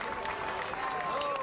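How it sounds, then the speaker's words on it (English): A crowd cheers and applauds at the start of a Giro d'Italia stage in Genoa, a brief dense wash of noise with voices over it. "Yes, the cheers of the crowd."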